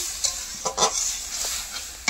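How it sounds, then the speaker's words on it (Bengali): Raw mustard, poppy seed and ginger paste frying in a wok, stirred firmly: several quick scraping strokes over a bright, continuous sizzle, close and clear, with no talking. "এইভাবে কড়াইতে দেওয়ার পর কিছুক্ষণ ভালো করে কষে নেব"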